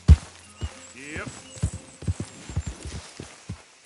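Horse hooves clip-clopping in a PS4 video game, a loose series of light knocks with a brief whinny early on, moderately faint against quiet background.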